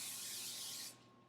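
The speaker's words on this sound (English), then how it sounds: "you then take your baking sheet and spray it" Cooking spray hisses from a can onto a baking sheet in one short, close, loud burst that cuts off sharply before a second of quiet.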